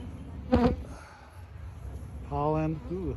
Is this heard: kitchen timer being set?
no